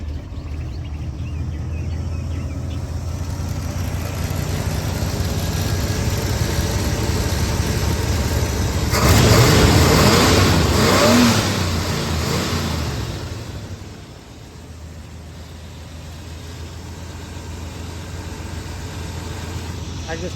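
A 1985 square body truck engine rumbles at a steady idle, swells into a brief rev near the middle, then settles back to idle, heard close up.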